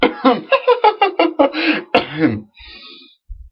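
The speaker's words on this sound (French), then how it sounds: "Je tousse" A man coughs and clears his throat in a quick series of close, sharp bursts, ending in a short raspy throat sound with brief pauses between.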